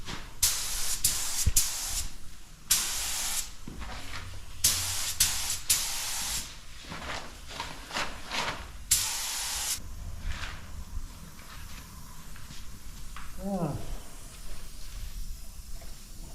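Aerosol spray paint laid as a light tack coat on aftermarket Jeep fender flares: several short, loud hissing bursts close by with pauses between, fading into quieter rattles and handling noise afterward.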